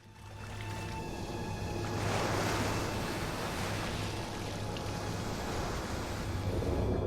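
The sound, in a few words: ocean waves on a shore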